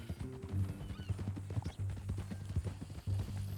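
Horse hooves clip-clop in Red Dead Redemption 2, a quiet, uneven rhythm of soft thuds from a horse walking close by, with faint low tones running underneath.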